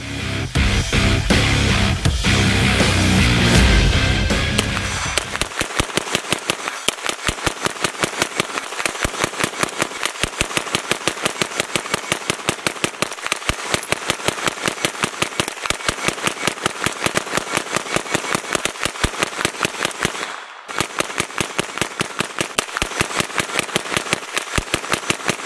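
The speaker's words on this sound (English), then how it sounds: "here's our 500-round burn down" Sustained rapid automatic fire from a Noveske Space Invader rifle in a 500-round burn-down, dense rhythmic shots rattling loud and close for over twenty seconds with a brief pause near the end.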